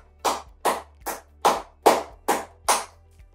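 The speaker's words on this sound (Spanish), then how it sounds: "Y aquí pueden aplaudir." Seven evenly spaced hand claps during a tapping exercise routine, one person clapping palms together at a steady moderate pace, close and distinct, with quiet gaps between each.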